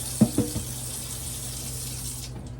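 Grapes being rinsed under a running kitchen tap: a steady close hiss of flowing water with a couple of brief splashes near the start, and no talking.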